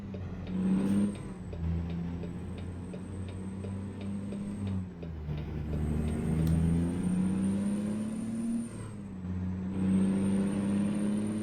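Freightliner Freightshaker Classic XL truck engine in American Truck Simulator, a deep steady diesel drone rising and falling in pitch through gear changes, with a rapid ticking and a high whine over it, no talk.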